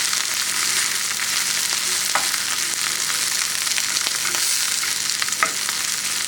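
Wild burdock and milkweed stir-frying in a pan, with a steady, continuous sizzle throughout and a few faint clicks of stirring, heard alone without voices.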